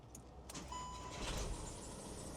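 A VW Crafter camper van's engine cranks and catches after the ignition is turned, with a short whirring crank followed by a low rumbling idle, heard close but fairly quiet.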